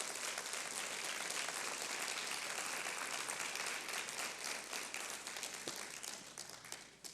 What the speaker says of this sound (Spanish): ¿Cuántos pueden darle un aplauso al Señor por ese sacrificio?